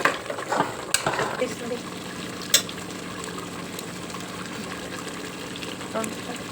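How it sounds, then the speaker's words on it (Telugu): Masala paste of blended spices and tomatoes frying in a pot for mutton curry, a steady soft sizzle with a few sharp stirring clinks and scrapes near the start, no talking. "మసాలా మంచిగా వేగనియాలి"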